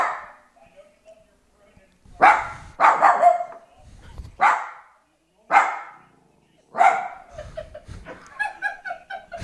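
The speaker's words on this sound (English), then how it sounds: "not only barking, there was a growl in there as well." A dog named Lola barks and growls at a television in several sharp bursts spaced a second or so apart, with laughter and chuckling mixed in between.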